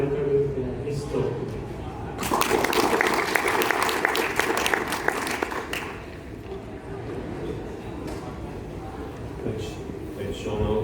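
An audience at the launch ceremony of a lab bursts into applause welcoming a speaker, a dense clatter of clapping lasting a few seconds before tapering off into low room murmur.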